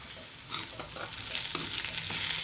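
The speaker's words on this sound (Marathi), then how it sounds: "कोथिंबीर पण छान परतून घ्यायची।" Chopped coriander sizzling and being stirred in hot oil with peanuts and a moth bean usal mixture, a soft continuous fry with scraping spoon strokes, close and fairly quiet.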